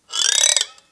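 A single short, raspy croak, like a belch, rising and fading within a second, from a homemade cup roarer whirled on a string. Close and loud, with no voices.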